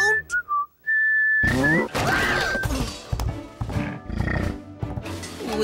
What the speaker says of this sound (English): Makes me feel like whistling another cowboy tune.